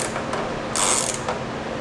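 Ratchet with an extension loosening an airbox screw during a cold air intake install on a 2016 Lexus IS 200t 2.0L: a steady run of close, fine ratchet clicks with a brief louder burst partway through.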